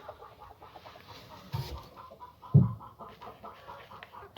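A broody Cochin hen clucks softly nearby with a few low, short clucks over quiet background rustling.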